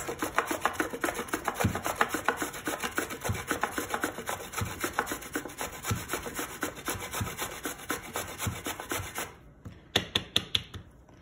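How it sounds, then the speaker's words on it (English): Tapioca roots being grated on the fine side of a hand grater make a steady, close, rhythmic rasping scrape of repeated strokes, ending in a few sharper separate scrapes, with no voices. "I'm using the fine side of the grater to grate it."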